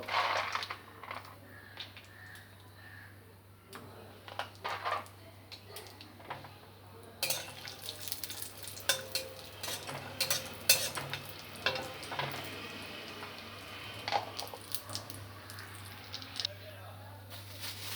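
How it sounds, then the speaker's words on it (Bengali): Cashews frying in ghee in a dry kadai on a gas stove, a quiet sizzle under sharp clinks and scrapes of a spatula stirring against the pan, with a steady low hum and occasional speech. "কাজুটা লাল করে ভাজা হয়ে গেছে।"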